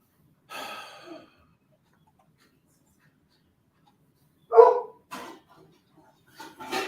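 A couple of short, soft barks from a dog in an otherwise quiet room, separated by a long pause, with faint breathy sounds at the end.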